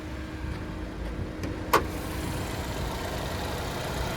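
A 2017 Chevrolet Equinox's 2.4-liter naturally aspirated four-cylinder engine idles with a steady, low, even hum, and a single short click cuts in partway through.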